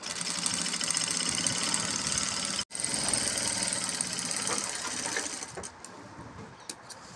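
Sewing machine stitching a korai grass-mat bag, a steady fast mechanical whirr with rapid needle chatter, close and loud, broken by one brief stop before running on and then slowing and fading.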